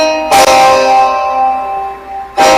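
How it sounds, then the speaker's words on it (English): A sustained chord rings out with bright, bell-like overtones, struck once near the start and again at the end, fading slowly in between. "major scale chord would be a combination of 8 and 6, which sounds something like this"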